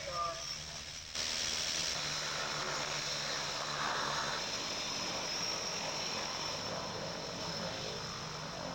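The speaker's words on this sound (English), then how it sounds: "This is another airplane ready for takeoff." Floatplane engine and propeller on the Yellowknife waterfront ready for takeoff, a steady moderate drone that steps up in level early on and holds, with a voice briefly heard over it.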